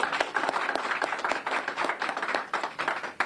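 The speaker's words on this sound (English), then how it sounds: "that in itself deserves another round of applause" Round of applause from a county gathering audience, dense steady clapping with sharp hand claps throughout, moderately loud and continuous for a few seconds.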